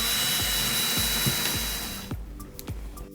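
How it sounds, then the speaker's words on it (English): A power drill or screwdriver drives screws through a wooden kendama wall rack into the wall, with a steady whir and several rhythmic clicking pulses before the motor stops and a few quiet taps remain. "Then I recommend screwing in one side first."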